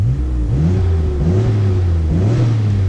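A Nissan Skyline GT-R with an HKS high-power catback exhaust idling low and loud, with brief blips of revving rising and falling over a deep, steady rumble.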